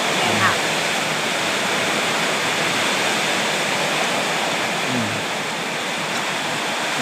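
Heavy rain pouring down during a rainstorm, a loud, dense, unbroken hiss that fills the whole stretch, with a brief faint voice surfacing beneath it.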